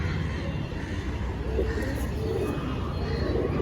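A male pigeon in a bird market gives a few low, rolling coos midway through, fairly faint beneath a constant hum of background crowd noise.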